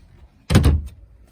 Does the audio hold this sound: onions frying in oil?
no